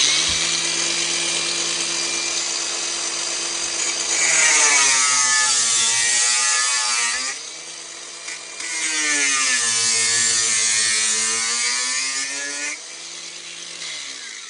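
A power saw cuts through copper at a 45-degree angle, a loud whining drone that rises into a harsh grinding scream during each of two cuts, then eases back to a steady spin.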